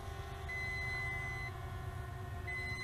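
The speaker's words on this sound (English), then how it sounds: "Long beeps indicating that it is in second phase of low voltage return to home" A Holy Stone HS510 foldable GPS quadcopter drone sounds long electronic beeps during its low-voltage return-to-home phase, steady tones over a low background rumble, fairly faint.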